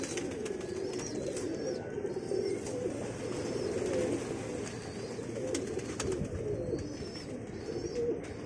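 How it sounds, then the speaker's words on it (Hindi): A large flock of pigeons at a pigeon-flying contest coos steadily and softly, a dense, continuous murmur of overlapping calls that never pauses. "अली भाई कोई कबूतर बैठ नहीं रहा, क्या वजह है?"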